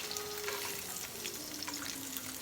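Tofu pieces fry in oil in a pan on a lopsided stove, a steady dense sizzle close up that holds without pause, no voices.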